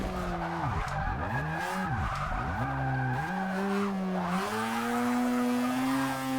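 Rotary-engined Toyota race car in Forza Motorsport 6 revving hard and continuously, pitch sweeping up and down through several rising and falling revs before holding a high, steady whine, loud and close with no talking.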